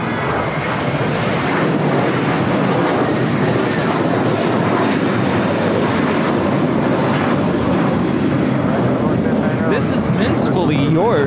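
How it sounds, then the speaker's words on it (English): A JetBlue Airbus A321 roars loudly down the runway on takeoff at LAX, a thick, rumbling engine roar under people talking nearby, with a brief rustle near the end. "This is JetBlue 224 on an A321."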